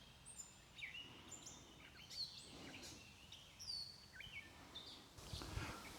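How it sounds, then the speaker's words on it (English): Birds chirp in scattered short calls outdoors around an off-grid tailgate spot in fine weather, faint and somewhat distant over a quiet, breezy background with no talking. "The birds definitely love this type of weather."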